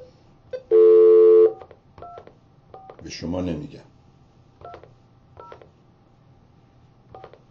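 Telephone keypad dialing tones: one long loud beep followed by a series of short, evenly spaced dual-tone key presses, with a brief spoken phrase in between and faint background hum.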